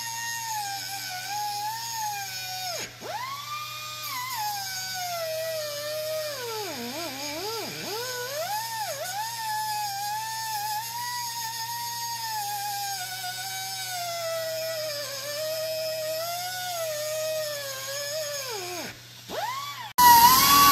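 An angle grinder cuts through a metal plate during a trailer hitch install on a 2021 Lexus NX300h. It gives a loud, sustained whine that dips in pitch as the disc bites into the steel, running almost continuously with brief breaks.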